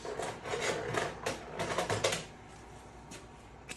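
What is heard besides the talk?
filing wood with a file instead of a rasp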